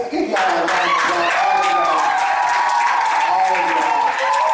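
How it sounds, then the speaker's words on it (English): An audience at a leadership talk breaks into sustained applause, dense clapping filling the whole stretch with cheers and voices mixed in, loud and close. "Give y'all a round of applause."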